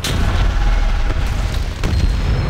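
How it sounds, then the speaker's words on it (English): An explosive charge detonates in World of Warcraft with a loud, rumbling boom that fills the whole moment, its heavy low roar swelling again briefly near the end, no talk over it. "Let's detonate these explosives."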